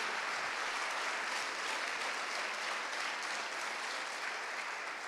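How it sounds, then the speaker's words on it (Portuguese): Church congregation clapping loudly and steadily for the full stretch, a dense, continuous wash of applause with no voices standing out. "Aplaude a Deus bem forte agora se você"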